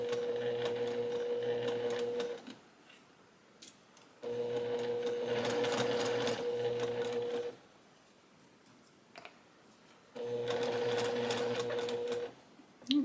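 A sewing machine stitches in three steady bursts while finishing a cross stitch piece, each run lasting a few seconds with quiet pauses between and a faint click near the end.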